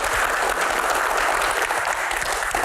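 Audience applause at a disaster-preparedness Q&A event, a dense, steady wash of many hands clapping close and loud for the whole stretch.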